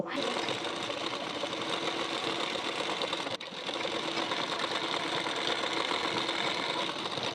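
A sewing machine runs a continuous whirring stitch along the side seam of a blouse, close and steady, pausing for a split second partway through before carrying on.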